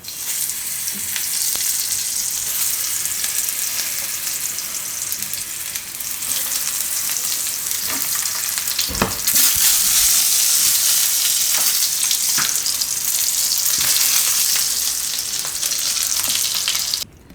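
Eggplants and tomatoes fry in oil for a Gujarati oro, a loud, continuous crackling sizzle that swells briefly midway and stays close, with no talking.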